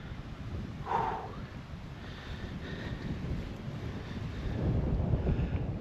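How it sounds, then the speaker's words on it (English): Wind blowing across a hillside on Gibson Knott in the Lake District during a wild camping trip, a constant low buffeting roar against the microphone that strengthens toward the end, with no talking. "The wind's getting up now, so it's a bit better."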